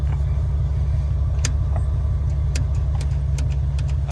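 A 1970 Ford Maverick engine running in the snow and struggling to idle, a loud steady low rumble with faint ticks on top, heard up close with no talking.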